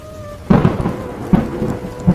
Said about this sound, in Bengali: আর দূরে কোথাও কাঁপা কাঁপা মাটির স্পর্শে বাজ পড়ছে।